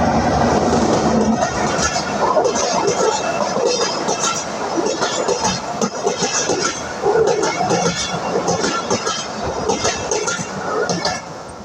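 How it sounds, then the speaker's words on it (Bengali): A train rumbles past close by, loud and continuous, with rattling and clanking of the cars; voices can be heard faintly underneath. "এই যে ট্রেন চলে আসছে ট্রেন চলে আসছে"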